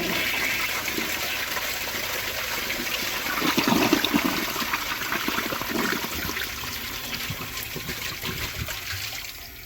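A 1970 Kilgore Apex toilet flushing with a rolled-up dish towel in the bowl: a steady, close rush and gurgle of water that swells midway, then trickles and refills, with no speech.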